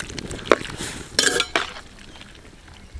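A utensil scrapes and clinks against a metal pot while jackfruit curry with turmeric, chili powder and salt is stirred, a few sharp knocks followed by quieter scraping, with no voices.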